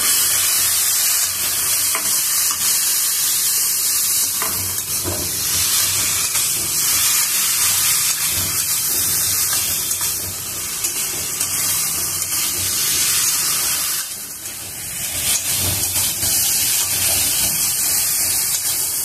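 Mushrooms and potatoes sizzle steadily in hot oil in a pan while being cooked with eggs, a continuous close hiss broken by occasional stirring scrapes, with no talking.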